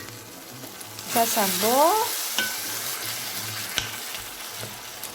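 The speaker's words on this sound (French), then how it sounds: "ma shakshuka, elle cuit" Shakshuka simmers and sizzles in a pan over low heat, a steady frying hiss with a few stirring knocks; a person speaks briefly partway through.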